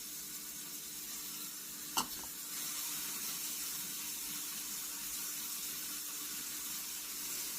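Garlic hits a hot pan while corned beef hash pasties are being made, giving a steady, moderate hiss with one brief sharp clatter near the start and no voices.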